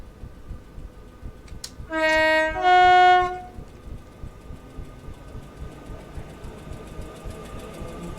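A train pulling away in the Train Sim 2020 video game on the West Croydon to Wimbledon line: a loud two-tone horn blast sounds, followed by a steady rhythmic mechanical clatter as it moves off.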